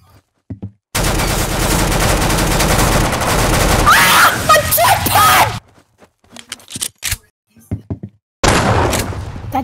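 Dense bursts of gunfire from a Roblox Arsenal match fill several seconds loudly, followed by scattered sharp shots and knocks, with another heavy burst near the end.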